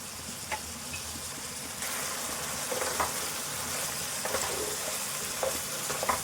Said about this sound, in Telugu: కొంచెం శనగపప్పు మంచిగా ఈ ఆయిల్లో మంచిగా ఫ్రై కావాలి